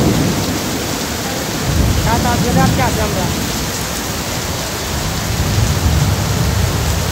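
A heavy downpour in Malaysia makes a constant loud roar, with low rolls of thunder and someone speaking briefly over the storm.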